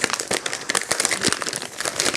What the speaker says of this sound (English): So I'm just going to rip this open.